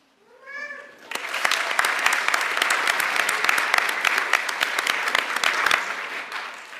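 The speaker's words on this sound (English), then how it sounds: "if you would stand so we can give you a round of applause" Audience applause at a naturalization ceremony, a dense burst of clapping from a seated crowd that starts abruptly after a short vocal sound and continues steadily for about six seconds before tapering.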